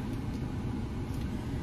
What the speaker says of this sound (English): Sorry if you hear the air conditioning going in the background.